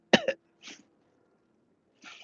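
A woman mimics a small feminine cough: two quick, sharp bursts, then a softer one, and after a short pause a final breathy cough, all close and isolated.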